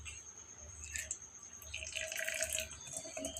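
Oil poured onto puffed rice gives a faint, quiet trickle with soft intermittent drips, close by and without talk.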